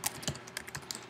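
Keystrokes on a computer keyboard while writing Python code for an FTP server, a short run of about six distinct taps, close and moderately loud, with no voices.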